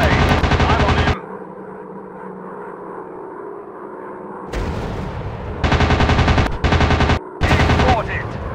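Rapid machine gun bursts in a 3D airplane combat game: loud chattering strings of shots at the start and in repeated bursts near the end, over a steady aircraft engine drone.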